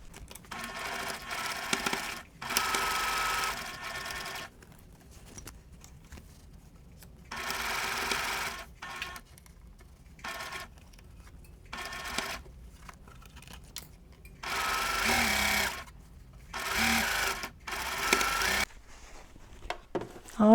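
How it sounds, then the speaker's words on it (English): A sewing machine stitches a seam on a Christmas quilt block in several close, steady whirring runs, separated by short pauses and quiet handling sounds. "Then I'm going to sew and adjust as I go."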